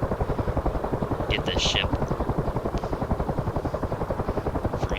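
Simulated helicopter in DCS World flying toward a landing on a USS Constellation FFG-62 frigate, its rotor beating in a loud, steady rapid thump throughout, with someone speaking briefly over it.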